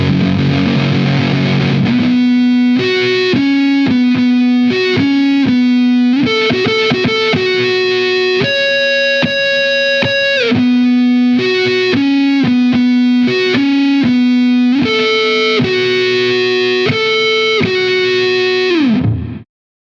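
An electric guitar played through a Big Muff fuzz pedal, dialed toward a John Frusciante-style tone, plays a thick, saturated sustained melodic line of held notes and quick changes for about twenty seconds before cutting off.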